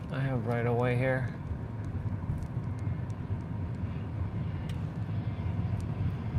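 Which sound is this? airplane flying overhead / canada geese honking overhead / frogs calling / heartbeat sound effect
airplane flying overhead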